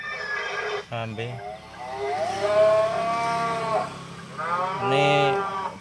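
A novelty car horn plays a synthetic cow moo, long drawn-out lowing tones repeated several times, loud and close, with brief electronic sounds between them.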